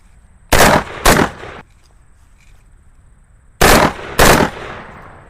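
A rifle fires two quick two-round bursts, loud and close, with the paired shots a fraction of a second apart and a pause of a few seconds between bursts; near silence surrounds them.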